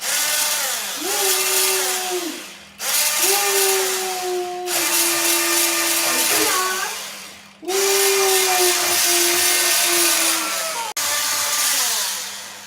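A hand-held electric mixer on its turbo setting whirs steadily through cake batter with raisins, in long continuous bursts with brief stops and pitch shifts as it works, with no talk over it.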